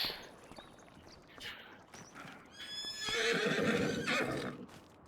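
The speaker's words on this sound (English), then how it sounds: "I wanted to check on the horses real quick too" A horse in the video game Farming Simulator 25 whinnies loudly with a drawn-out neigh, accompanied by soft clip-clopping hooves and some faint background noise.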